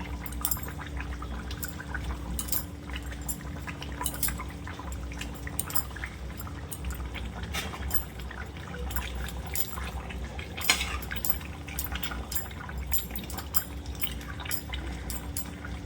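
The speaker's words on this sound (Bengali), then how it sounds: "এবার মাছগুলো দিয়ে দেবো, ভেজে রাখা মাছগুলো দিয়ে দেবো একটা একটা করে ঝোলের উপরে।" A fish curry gravy simmers as fried fish pieces go in one by one, giving a continuous bubbling, crackling sizzle with small splashes and drips throughout.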